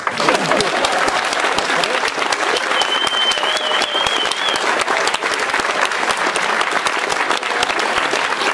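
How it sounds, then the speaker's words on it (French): Sustained audience applause at a literary festival prize ceremony, dense crisp clapping filling the whole stretch at a loud, even level, with a faint voice briefly audible underneath. "vous pouvez applaudir"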